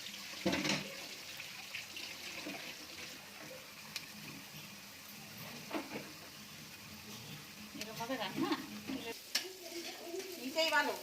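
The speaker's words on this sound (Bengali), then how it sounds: "নুন দেওয়ার পরও 2-3 মিনিট পেঁয়াজটাকে একটু ভেজে নেব।" Sliced onions with salt fry over a high flame in a pan for tarka dal, making a soft, steady sizzle broken by spoon stirs and scrapes, louder clatter near the end.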